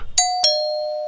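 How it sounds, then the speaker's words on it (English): A doorbell in a domestic violence awareness campaign ad gives two clear ding-dong chimes, close and bright, with the second tone ringing on and slowly fading. "Ring the bell."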